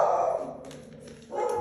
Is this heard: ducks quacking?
no